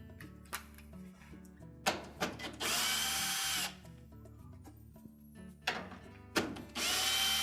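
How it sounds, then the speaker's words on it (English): Power drill removing screws from the door latch bracket of a Whirlpool washer, two whining bursts of about a second each, close and loud, separated by clicks and handling knocks. "we'll remove the 2 5/16 screws that secure that to the mounting bracket."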